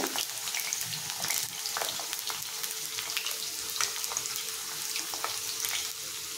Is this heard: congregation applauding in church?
no